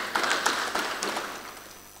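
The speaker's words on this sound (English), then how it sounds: "Kindly give him a warm round of applause again." An audience at a Nigerian agro-industrial program launch event gives a round of applause, with steady, moderately loud clapping that slowly thins out.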